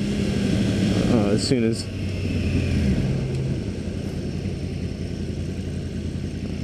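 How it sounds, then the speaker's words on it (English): A liter-bike motorcycle engine at the International Motorcycle Show drones low and steady nearby, its pitch sliding briefly before it fades into a continuous rumble, with a voice speaking over it. "I'm gonna see if I can get into the higher RPM a little bit"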